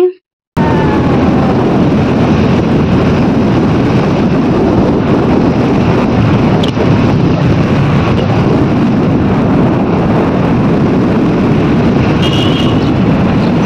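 Constant loud wind buffeting and road rumble from a car driving along an empty road, a dense, unbroken roar that holds steady throughout after a brief quiet start.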